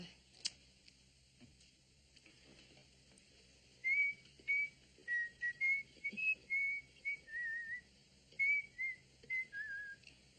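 Someone whistles a short tune, a string of clear melodic notes with brief pauses between phrases, close by in a quiet room.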